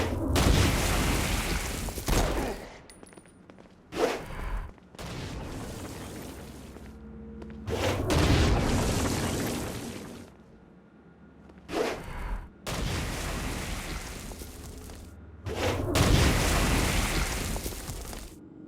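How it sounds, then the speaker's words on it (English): Repeated heavy Stone Blast explosions from the Saints Row: Gat out of Hell video game, loud booming bursts in quick clusters separated by short lulls, with game sound effects between them. "Stone Blast is especially useful on flying demons like this one."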